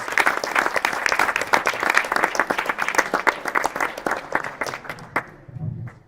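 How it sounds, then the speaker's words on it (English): An audience at a bioeconomy panel event applauds a job training team, with brisk, dense clapping that gradually thins and fades out near the end. "please give the Motherlode Job Training team a huge round of applause"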